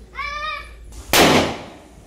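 A firecracker goes off during a Ganpati visarjan celebration: a short rising whistle is followed by one sharp, loud bang that fades out, heard close by with no voices.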